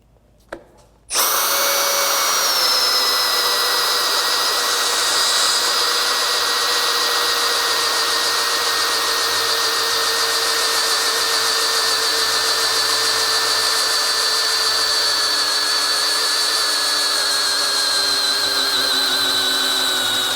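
A Metabo HPT 18V MultiVolt DV18DEX hammer drill on a 4Ah battery starts with a sharp click and runs under load for about nineteen seconds, a loud, steady whine that slowly drops in pitch, alone.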